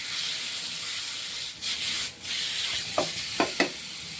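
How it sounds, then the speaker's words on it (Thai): Marinated pork for a curry-powder stir-fry sizzles in a pan, a soft, even hiss broken near the end by a few quick scrapes of the spatula, with no voices. "เริ่มขั้นตอนแรกโดยการผัดหมูนะครับ เราก็จะผัดไปเรื่อยๆได้เลย"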